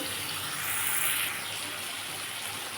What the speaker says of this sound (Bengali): আমি বাটি দেওয়া জলটা দিয়ে দিলাম